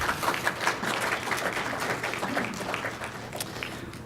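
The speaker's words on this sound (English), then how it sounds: "let's give a big round of applause to Mr. Isaac" A conference panel audience applauds steadily, dense clapping filling the room at a consistent level throughout.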